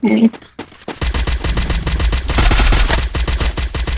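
Rapid automatic gunfire rattles on in the Free Fire battle royale game, dense and loud bursts of shots with a few scattered single reports, while a player talks briefly at the start.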